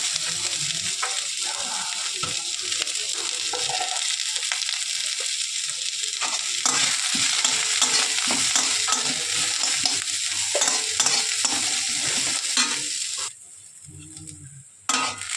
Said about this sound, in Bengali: পেঁয়াজটা কিন্তু ভাজা হয়ে এসছে